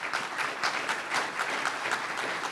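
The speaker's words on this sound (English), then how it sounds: "I'd like to give them a round of applause." An audience at a county symposium gives students a round of applause, dense continuous clapping with a few sharper claps standing out, no talk over it.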